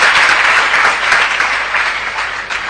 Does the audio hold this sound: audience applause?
yes